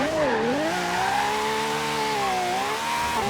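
A Pagani Zonda Cinque in Forza Horizon 3 drifts through city streets, its engine holding a loud, sustained wavering roar that dips and climbs with throttle, mixed with tyre squeal and no talking.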